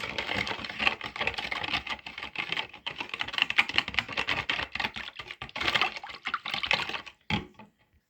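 Two eggs being beaten by hand in a bowl, a steady run of quick clicking strokes that continue for several seconds before stopping abruptly; no voices.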